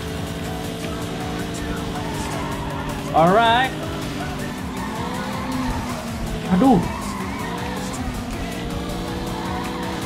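Cars racing in the video game NFS Carbon, with a steady engine drone and two sharp tire squeals as the player tries to overtake two rival cars, under excited talk from a player.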